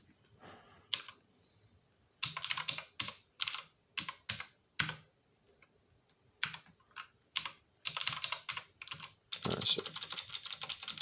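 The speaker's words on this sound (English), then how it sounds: "I'm going to type in the password." Computer keyboard keys are tapped in irregular bursts of close, crisp clicks with short pauses between runs, somewhat hesitant as if typed one-handed, and no speech.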